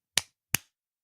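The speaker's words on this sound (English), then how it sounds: "Clap our hands." Two sharp, isolated hand claps ring out about a third of a second apart, crisp and close against silence.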